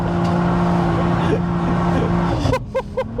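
A 700 bhp BMW M340i pulling away: a loud, close engine drone holds steady tones for a couple of seconds, then surges into pulsing revs as the car sets off.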